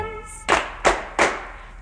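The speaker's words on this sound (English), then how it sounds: "If you believe in fairies, then clap your hands." Audience clapping hands to save Tinkerbell: three distinct, loud claps spaced evenly after a brief sung note.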